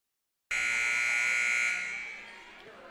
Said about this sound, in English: You hear the buzzer.